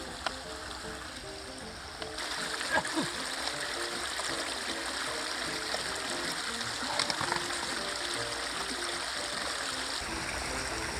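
A flowing woodland stream runs and trickles steadily at close range while water is gathered for filtering, with a brief splash or handling noise partway through and no talk.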